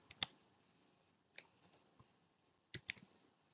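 Computer keyboard keys are pressed, including F5, while working in animation software. Several crisp, close clicks come in small irregular clusters against near silence.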